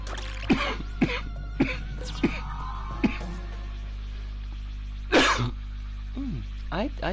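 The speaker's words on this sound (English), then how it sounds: "I do not like having a cough like this." A man coughs and clears his throat repeatedly in short, close bursts, with a louder hacking cough near the end, over a quiet steady hum.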